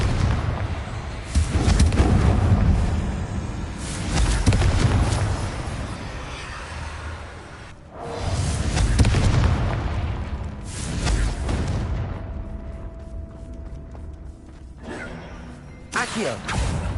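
Repeated loud blasting explosions from the Confringo spell in the Hogwarts Legacy video game, several heavy booming bursts with rumbling tails spread over the stretch, a voice shouting spell names between them.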